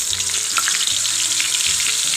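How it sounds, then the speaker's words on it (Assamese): Raw banana chips fry in hot oil with a dense, steady sizzle and crackle that runs unbroken throughout, close and loud with no voices. "এতিয়া বাকী থকা চিপছখিনি আকৌ দি আগৰ দৰে একেদৰে ভাজি ল'ম।"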